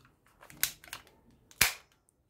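A toy gun fires nearby, its sharp cracks coming as a quick cluster of shots and then one loud report after a short pause, with near silence in between.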